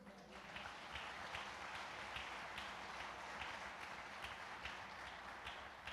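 A church congregation applauds Jesus in São José dos Pinhais, sustained crowd clapping with a few sharper rhythmic accents riding on the broad wash of hands, continuing throughout.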